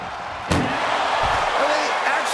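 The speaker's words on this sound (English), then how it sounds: "Trying to force the first door closed." A heavy ambulance door slams shut in a wrestling video game, one sharp impact followed by ongoing crowd and commentary noise with a voice talking over it.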